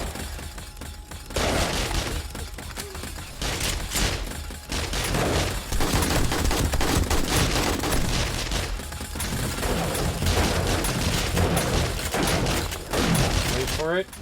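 Turret gunfire in 7 Days to Die at a sunken workbench mega base: dense, sustained bursts of shots and impacts rattle almost continuously, loud and close, with a short lull near the start.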